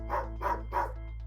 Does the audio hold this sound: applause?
no